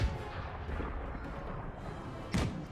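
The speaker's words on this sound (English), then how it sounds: "12-pounders firing at the closest target, being the dragoons" Distant 12-pounder cannon fire in a Franco-Prussian War strategy game, a muffled thump at the start and a louder boom near the end over constant low battlefield rumble, no talking.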